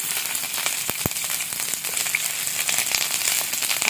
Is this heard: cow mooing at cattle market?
no